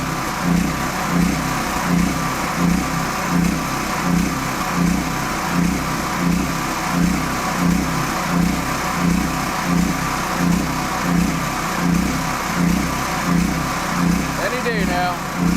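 A Pulsar G12KBN dual fuel 12000 watt generator running low on gas, its engine chugging in a steady, rhythmic surging pulse about once per second, loud and continuous throughout, with a faint voice briefly over it.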